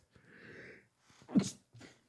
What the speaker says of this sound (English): a little bit of a sneeze there